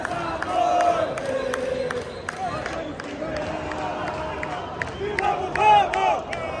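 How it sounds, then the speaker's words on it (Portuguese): Bahia football supporters chant as a dense crowd in the Mineirão stadium during a Cruzeiro match, a loud sustained roar of massed voices with rhythmic shouts rising and falling throughout. "E a torcida do Bahia tá aqui, ó,"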